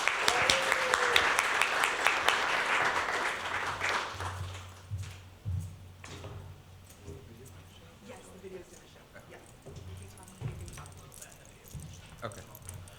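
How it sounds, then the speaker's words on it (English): Applause breaks out for an artist being introduced at a Two Spirit artist showcase, loud at first, then fading after about four seconds into scattered claps and low room noise. "Let's give a round of applause for Silver."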